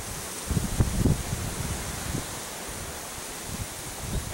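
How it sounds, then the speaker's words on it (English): Wind blowing outdoors on a farm with horses, a steady broadband rush with a few low buffeting gusts against the microphone, no talk. "the way the wind's blowing out here, you may not be able to hear a damn word I'm saying"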